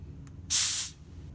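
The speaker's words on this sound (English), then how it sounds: "you use the release valve to expose the actual tubing to the environment" Pressurized oxygen at about 33 atmospheres bursts out through the release valve of a bomb calorimeter. It is a single sharp, loud hiss lasting about half a second over quiet background.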